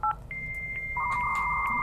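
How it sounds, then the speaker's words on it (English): An old dial-up modem connecting: dialing tones followed by a steady high handshake whistle and a second rising tone, clear and moderately loud with no voices. "The old modem sound."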